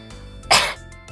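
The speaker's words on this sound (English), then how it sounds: "Cough." A single short, sharp cough, close and loud, standing out against quiet room tone.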